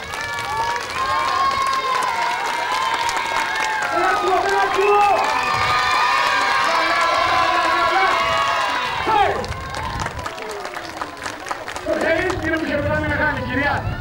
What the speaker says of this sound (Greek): Παιδιά, όση ώρα είναι στον αέρα, θέλω χειροκρότημα και φωνή.